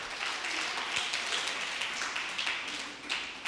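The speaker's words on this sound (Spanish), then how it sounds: "¿cuántos están aplaudiendo el nombre de Jesús?" A church congregation claps steadily throughout, a dense, continuous spatter of many hands filling the room with no single voice standing out.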